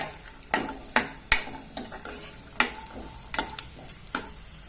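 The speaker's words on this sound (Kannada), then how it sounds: "ಕಡಲೆ ಚೆನ್ನಾಗಿ ಫ್ರೈ ಆಯಿತು ನೋಡಿ" Chana dal frying in a pan for millet upma, soft sizzling under a series of sharp spoon taps and stirring scrapes against the pan at irregular intervals.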